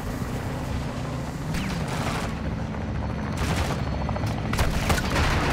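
Dense, continuous gunfire from Call of Duty: Modern Warfare 2 Spec Ops mission Low Profile, with overlapping shots and booms forming a steady loud barrage throughout.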